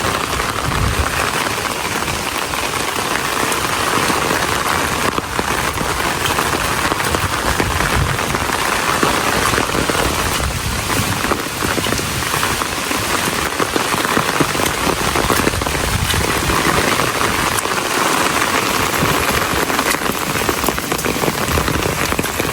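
Heavy rain pours down without a break, a loud, dense, close hiss of drops drumming on a surface, with no voices heard.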